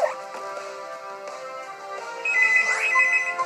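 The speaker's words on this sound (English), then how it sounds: "the phone is ringing" A phone rings in the Pokemon X video game, a bright electronic ringtone that repeats steadily and grows louder toward the end, alone and without talk.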